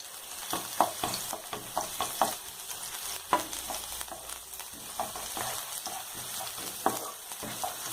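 Finely chopped garlic and green chili frying in hot oil, with irregular clicks and scrapes of stirring over a low, steady sizzle.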